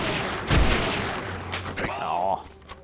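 Gunfire cracks in the PS2 western video game Red Dead Revolver, with a strong shot followed by a few sharper reports, and a short game voice cuts in near the end.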